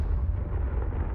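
The Confringo fire spell blasts in Hogwarts Legacy, heard as a continuous, heavy, low rumbling roar that holds at a steady loudness for about a second.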